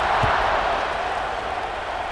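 A stadium crowd in the College Football 26 video game roars in a continuous, broad wash of cheering and noise, steady and fairly loud for two seconds.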